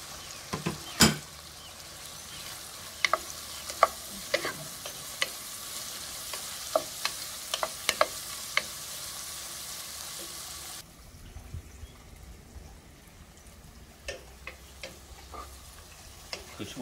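Whole cumin, fennel, black pepper, cloves and cinnamon stick fry in a pan with a soft steady sizzle, punctuated by sharp scrapes and clicks of stirring, close up; the sizzle quiets partway through while scattered stirring taps continue.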